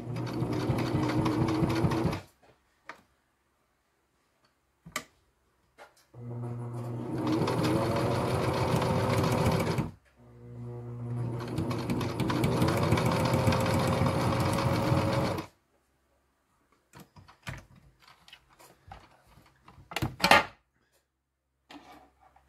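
A sewing machine stitches a tight zigzag on a fabric food bag in two long, loud, steady bursts of rapid whirring, separated by pauses, then scattered clicks and handling noises.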